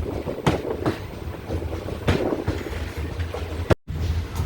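Train pulling out of Mararikulam railway station in Kerala, a steady rumbling roll with rhythmic clicks and wind buffeting, heard from on board; a brief dropout near the end.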